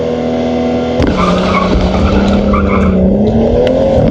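A BMW 335i with an N55 engine and a swapped DCT gearbox does a launch control start: a steady idle, then a sudden loud rev and a sustained tire squeal with engine drone. The sound is close and continuous, with no talk.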